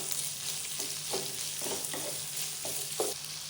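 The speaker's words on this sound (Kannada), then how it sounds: "ಈರುಳ್ಳಿ ಸ್ವಲ್ಪ ಫ್ರೈ ಆದಮೇಲೆ ಕ್ಯಾಪ್ಸಿಕಮ್ ಹಾಕೋಣ. ಸ್ವಲ್ಪ ಫ್ರೈ ಮಾಡ್ಕೊಳ್ಳಿ." Chopped onion and capsicum sizzle steadily in a hot pan for masala chitranna, a constant close frying hiss broken by several soft scrapes of stirring, with no voice over it.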